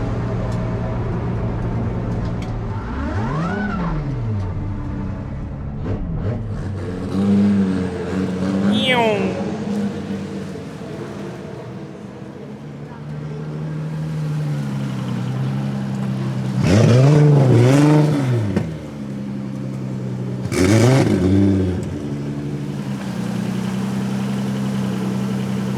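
A drift car at the Drift Masters event in Warsaw's PGE Narodowy stadium idles with a low rumble, then revs in several rising and falling bursts, with people talking over the engine.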